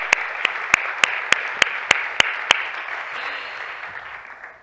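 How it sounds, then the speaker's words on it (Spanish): A burst of audience applause at an awards colloquium, steady clapping from a seated crowd with some loud, evenly spaced claps from someone nearby, then tapering off. "Aquí está Rosebel, otro aplauso."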